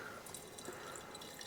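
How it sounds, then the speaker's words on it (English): Dark chamomile extract solution is poured through an ordinary funnel into a boiling flask, giving a faint, steady trickle with soft drips throughout. "Take our solution, which is nice and dark, and let's just start filling up our boiling flask."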